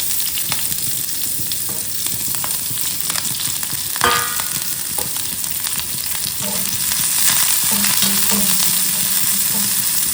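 Green chillies, onion and curry leaves frying in hot oil in a home kitchen, a loud, steady sizzle broken by sharp scraping stir strokes and a few crackling pops, with no talking.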